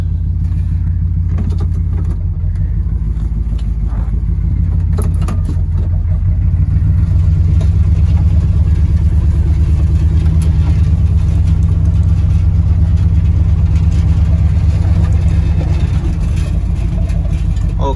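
A 1977 Dodge W100 Stepside truck's carbureted engine idles loudly and close, then revs up after a few seconds and holds a deep, steady roar without speech.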